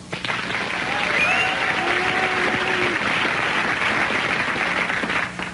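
A studio audience applauds steadily for several seconds, a dense wash of clapping filling the room, with a faint voice underneath.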